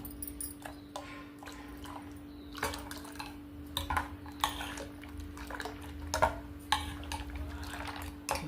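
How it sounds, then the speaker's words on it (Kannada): A mixer jar is rinsed with water at a home kitchen sink, giving sloshing and splashing along with clanks of the jar against metal. Under it runs a steady low hum, and the sound is close but not loud. "ಬೇರೆ ನೀರು ಹಾಕಿ ಒಂದು ಸ್ವಲ್ಪ ಇದನ್ನ ತೊಳ್ಕೊತೀನಿ."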